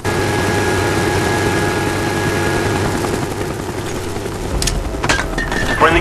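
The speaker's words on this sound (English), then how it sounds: "Our spy plane's in the air." A spy plane drones overhead in a jungle map of an online shooter, a steady loud engine roar with a few sharp game effects near the end.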